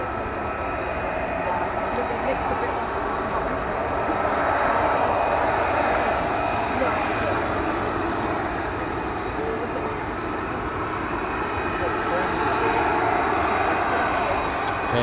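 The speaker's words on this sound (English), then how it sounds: "You can always tell an A400 it's got that distinctive two-tone sound, like a real bassy, buzzy sound along with a higher pitch zoom sound." A400 military transport aircraft engine at an air base near a fighter wing, giving a steady, loud broadband drone with a deep buzzy low end and a higher whine, sustained throughout the clip.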